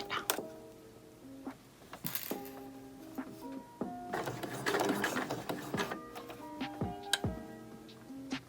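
A sewing machine stay-stitches a pleated medical-style face mask in short bursts of rapid, close mechanical clatter, separated by pauses with small ticks and clicks.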